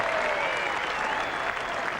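A cricket crowd at the 1981 Ashes applauds a solid shot by Botham, a dense, steady wash of clapping that holds at an even level for a couple of seconds.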